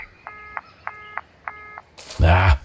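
A phone in a horror adventure game is dialed: three short evenly spaced bursts of electronic dial tones ring out clearly, then a louder rough burst of noise cuts in at the end.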